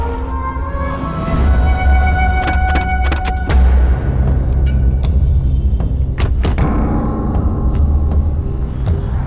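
In a scene from a Hindi-dubbed South Indian action film, a car's engine rumbles loudly as it pulls away, with sharp clicks and thuds over a steady low roar.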